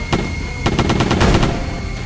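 A quick burst of rapid automatic gunfire in the video game Deer Simulator, loud and close, with a single shot followed by a tight run of shots over a low rumble.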